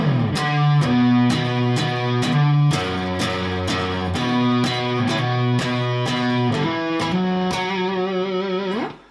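The opening guitar riff of a song, played on a distorted guitar as a repeating pattern of clear picked notes that rings out alone and stops near the end.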